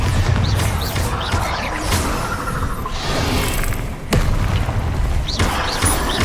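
Repeated heavy booms and crashes from the Bombarda blasting spell in Hogwarts Legacy, loud and close, with whooshing bursts between the blasts and no talking over the continuous fighting.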